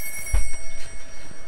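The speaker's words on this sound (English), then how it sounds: "That's an old phone." An old telephone rings inside a Fortnite game, a short bright electronic bell burst heard close and clear, with a soft thump at its start.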